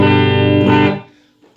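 A single clean electric guitar chord rings out bright and loud, then quickly fades away.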